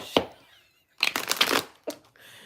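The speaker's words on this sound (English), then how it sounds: "It's me shuffling for you." Playing cards being shuffled: a brief riffle burst, a pause, then a longer flurry of crisp flicks and a final snap, close and clear.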